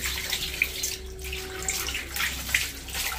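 Water poured and splashed during a wash, a steady moderate splashing and trickling with brief louder spatters, close by and heard on its own without talk.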